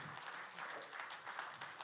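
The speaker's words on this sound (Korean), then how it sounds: "네 분께 다시 한번 큰 박수를 부탁드리겠습니다" Faint but continuous applause from the audience at the founding ceremony of a Korean civic association, a steady patter of many hands clapping heard from a distance.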